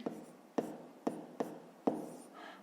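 Pen strokes on paper as numbers are written by hand during a fifth-grade maths exercise, five sharp taps and short scratches in an uneven rhythm, close and quiet.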